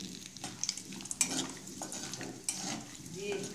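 Cinnamon, cardamom and bay leaf crackle in oil left from frying cauliflower for a cauliflower roast. A close, moderate sizzle runs under intermittent spoon scrapes and light clinks of stirring, with no talking.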